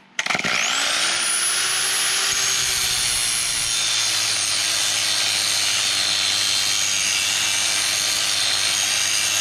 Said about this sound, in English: What I liked is with the hand grinder, it seems to be more consistent.